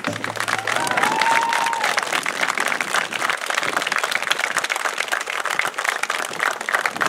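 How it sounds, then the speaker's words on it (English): An audience at a senior recognition ceremony claps steadily, giving a dense, sustained round of applause with a few faint cheers mixed into the crowd noise. "Please, one more round of applause for our seniors."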